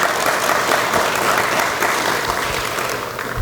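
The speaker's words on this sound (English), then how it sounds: "So can we give David a round of applause as well?" An audience at a high school senior recognition dinner applauds, a dense sustained burst of clapping from many people that carries evenly throughout.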